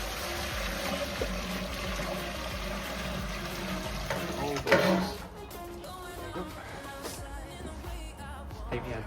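Heated brewing water for a lager pours steadily into a mash tun in a back garden, a continuous gushing splash that swells briefly midway and then settles into a softer trickle, close by.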